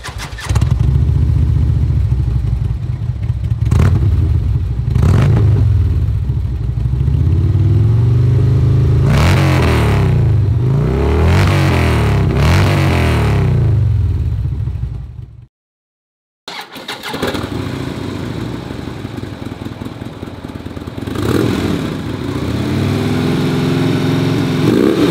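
A motorcycle engine with a Stage II performance upgrade cranks with sharp starter bursts, then fires and settles into a loud, steady idle with occasional throttle blips, briefly cutting out midway.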